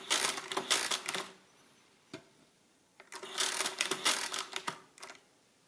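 The crank of a Precisa 117 mechanical calculator is turned, producing bursts of quick clattering mechanical clicks and whirs in two rounds with a single click between them, close and fairly quiet.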